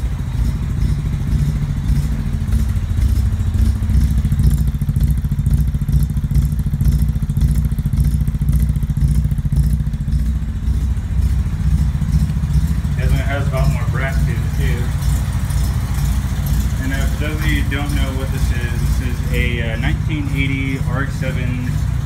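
Rotary engine of a 1980 Mazda RX-7 SA22c LS junkyard car, fitted with a GSL-SE engine, idling at its first start-up with a steady low rumble and clatter, with a person talking over it partway through.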